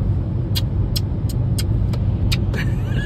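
A Hyundai i10 Nios car travels at high speed, with a constant loud road and engine rumble from inside the cabin and a series of short clicking taps over it.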